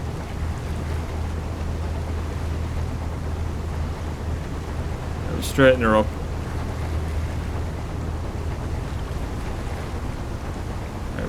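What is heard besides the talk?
ship engine and ocean waves in video game Seafarer: The Ship Sim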